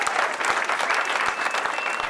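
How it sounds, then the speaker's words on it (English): A crowd applauds World War II veterans setting off on an Honor Flight from the Puget Sound area, with dense, steady clapping that carries loud and unbroken through the whole moment. "If we can give a great round of applause to these World War II veterans."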